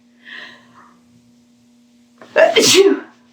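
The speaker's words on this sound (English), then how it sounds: "I have to sneeze." A single loud, close sneeze bursts out after a brief faint vocal sound, with a steady low hum underneath.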